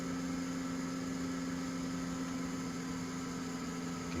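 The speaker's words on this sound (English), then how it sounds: "You can hear that engine starting to labor." A light aircraft engine in Microsoft Flight Simulator X drones at a steady, labouring pitch, a constant hum with no change through the whole stretch and no voices.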